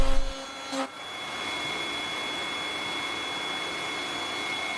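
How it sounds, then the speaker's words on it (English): A power tool cuts a groove in wood for a 7mm MDF veneered panel on an Edwardian bench seat, a brief knock at the start giving way to a steady, loud, continuous whine with no speech. "And then I could cut the groove for the"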